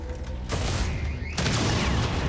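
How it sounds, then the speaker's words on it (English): A bolt caster weapon fires in heavily modded XCOM 2 War of the Chosen: two sharp, loud blasts about a second apart, each followed by a brief ringing tail. "I was so unfamiliar with that sound effect. I just don't use the bolt caster often."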